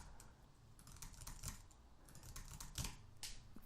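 Quiet, irregular clicking of keys on a computer keyboard as text is entered into a form, soft and close with bursts of faster taps and brief pauses.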